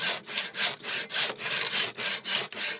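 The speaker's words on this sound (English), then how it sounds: "slicing lengthways down a rectangular block of wood to the depth of the mortise hole using a hand saw" Hand saw with a long curved serrated blade cutting lengthways down a rectangular wooden block for a tenon, steady rhythmic rasping back-and-forth strokes, about three per second, close and clear.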